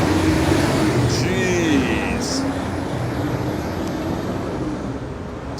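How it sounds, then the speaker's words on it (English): Loud trucks roaring past one after another on a street, a broad rumbling wash with a hiss of air brakes, close and steady, while someone talks over the noise. "that's like 5 super loud trucks in a row"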